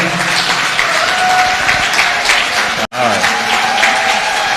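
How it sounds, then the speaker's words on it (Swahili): Audience applause fills the hall at the opening of a test centre in Westlands, a loud continuous wash of clapping with a high wavering ululation line running through it, briefly cut then resuming. "Hapo ndio mnapiga makofi na vigelegele."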